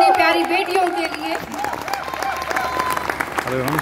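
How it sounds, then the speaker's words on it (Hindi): A crowd at a Haryana cultural celebration in Melbourne applauds loudly for young girls, the clapping running beneath music with sustained tones and a voice. "एक बार जोरदार तालियां हमारी इस नन्ही मुन्नी प्यारी बेटियों के लिए।"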